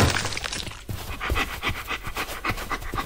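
Werewolf creature in a video game panting like a dog, with rapid rhythmic breathy huffs repeating steadily and close, after a brief crash-like sound at the start.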